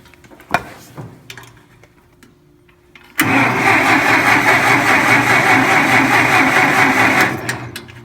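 Massey Ferguson 65 tractor with no spark, a few clicks and knocks before the engine cranks, then a loud, steady churning crank that runs for several seconds before cutting off, close up.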